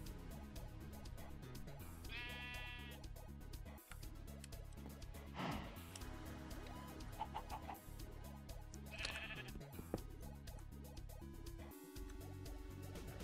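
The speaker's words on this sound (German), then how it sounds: "Schaf? Guck mal her, Schaf." A Minecraft sheep bleats about three times at spaced intervals, each call short and clear over a busy, steady game background.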